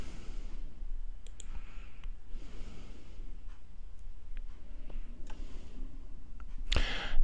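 Several soft, scattered mouse clicks while installing software on a Linux client, with faint background hiss between them and a louder burst near the end.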